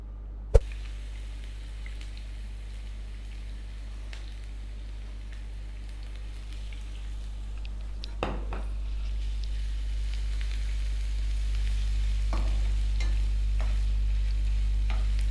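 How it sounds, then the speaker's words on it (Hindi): Carrots fry in oil in a pan with a steady, close sizzle that swells slightly over time, broken by a sharp tap at the start and occasional utensil scrapes. "इसके अंदर मैंने गाजरें डाल दी हैं फ्राई होने के लिए।"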